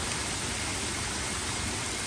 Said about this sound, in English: And this is the sound of sleet in a greenhouse.